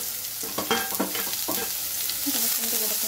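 Two chopped onions frying in hot oil for a potato-cauliflower dish give a steady, close sizzle, with a cluster of stirring clatter early on before settling into even crackling.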